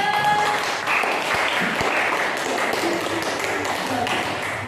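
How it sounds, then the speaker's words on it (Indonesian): A classroom of students claps for a student group, dense, steady applause filling the room at moderate volume throughout, with faint voices mixed in. "Nah, tepuk tangan untuk kelompok 3."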